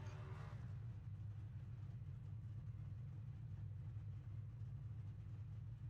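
Race car doing burnouts after an Elite All-Star race: a loud, steady low engine roar sustained throughout, with a brief higher-pitched whine at the start and no talk.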